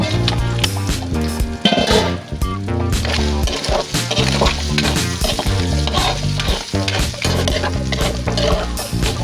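Pieces of meat for pinakbet fry and brown in a pan with a constant crackling sizzle and occasional stirring scrapes, partly masked by steady background music.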